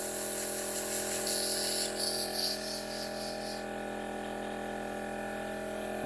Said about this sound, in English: A little contour. Spray that out.